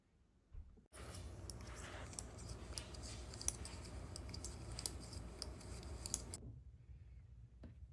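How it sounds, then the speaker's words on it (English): Scissors snip through knitting yarn after a knitted intarsia coaster has been bound off, giving a short close run of crisp blade clicks against a quiet background. "You can cut your contrast color, cut your second main color"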